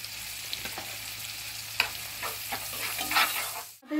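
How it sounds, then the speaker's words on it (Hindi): Tomatoes with turmeric and red chili sizzle in a pan over a medium-low flame for butter paneer masala, a steady frying hiss broken by occasional stirring scrapes and clicks, without any voices. "टमाटर भी अच्छा, आपको मीडियम पे लो फ्लेम पे ही रख के भूनना है।"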